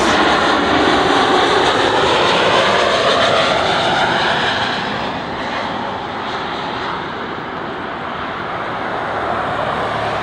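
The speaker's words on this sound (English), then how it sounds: "Here comes the 737 MAX 9 in the Continental livery." A Boeing 737 MAX 9 jet in Continental livery roars past at close range, its loud engine rumble and whine peaking and then easing as the aircraft moves away.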